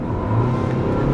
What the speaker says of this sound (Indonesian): Lari di 40, kita konstan, tiba-tiba kita injek pedal gas